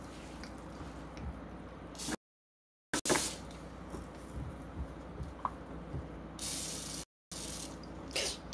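A can of butter-flavored cooking spray hisses in several short bursts, with clicks and handling noises between them, close and fairly quiet, with no voices.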